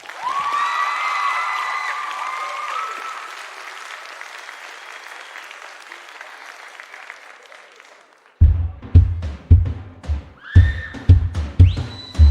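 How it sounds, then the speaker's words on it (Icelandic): Audience applause at the Tónkvíslin 2007 contest, loud clapping with shrill whistles and cheers that gradually dies away, then breaks off into separate louder thumping bursts and a voice. "Gefum þeim gott klapp."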